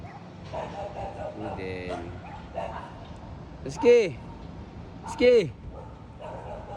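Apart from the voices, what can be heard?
dogs barking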